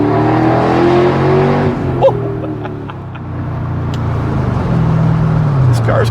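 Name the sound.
car accelerating during drive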